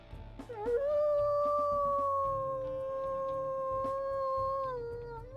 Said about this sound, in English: We'll also listen to her howls here.